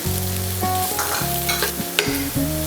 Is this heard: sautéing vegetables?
yes